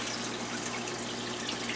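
Water runs steadily into a brackish aquarium tank as it is refilled, a constant close rushing splash with no pauses or voices.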